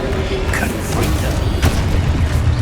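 Spell explosion from the Confringo curse in the video game Hogwarts Legacy, a booming magical blast amid a dense, continuous wash of combat noise with sharp bursts and creaks over about three seconds.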